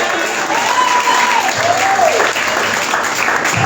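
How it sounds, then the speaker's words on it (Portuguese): A church congregation applauds steadily at a pastoral consecration service, a dense continuous wash of clapping with a voice briefly speaking over it. "aplaudindo o nome de Jesus"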